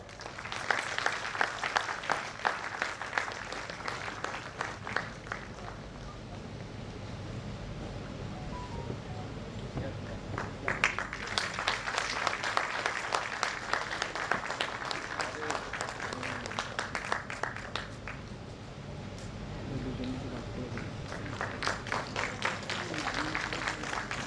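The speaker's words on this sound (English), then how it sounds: "Please put your hands together for Srimati Debarati Mukhopadhyay." Audience at a women's convention applauding a speaker: sustained waves of clapping that swell, ease off briefly, and return, with a steady room hum underneath.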